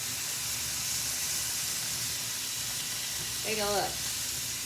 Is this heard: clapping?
no